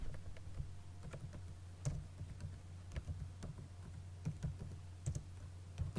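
Keys clack steadily on a computer keyboard while someone types text during an HTML and CSS coding lesson, with irregular soft clicks and occasional louder taps over a low background hum.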